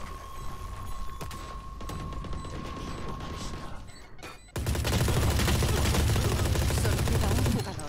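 Gunfire in the Valorant video game: scattered shots and mechanical clicks give way to a loud, sustained burst of rapid automatic fire in the second half.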